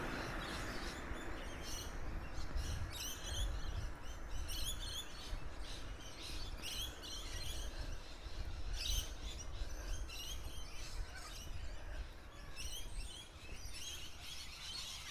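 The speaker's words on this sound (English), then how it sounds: "Oh, these birds, they're so noisy." Noisy birds at an early-morning lakeside give rapid, repeated chirping calls, fairly close and continuous, over a soft outdoor background with no talking.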